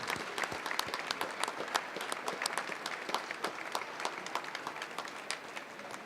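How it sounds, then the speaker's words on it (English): An outdoor audience at a St. Patrick's Day heritage celebration applauds an Irish pipers band: scattered, moderately distant clapping from a medium-sized crowd, irregular and steady throughout without speech. "how about a round of applause for our Irish Pipers band here?"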